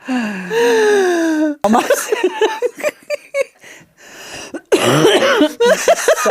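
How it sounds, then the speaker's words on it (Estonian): Several harsh coughs and throat-clearing bursts come in quick fits, close and loud, in a studio, mixed with breathy gasps and a bit of laughter. "See mu köha on veel"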